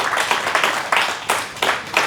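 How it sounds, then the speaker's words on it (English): A conference audience claps in short bursts, with uneven waves of hand claps rising and fading several times, fairly close and without talk. "So give yourself a hand clap."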